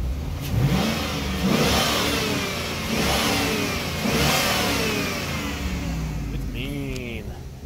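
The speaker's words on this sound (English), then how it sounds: "for the sake of giving a little rev, I have to do it anyway" A 2003 Cadillac Escalade's engine revs up several times from a steady idle, the rising and falling pitch coming close and loud through the whole stretch.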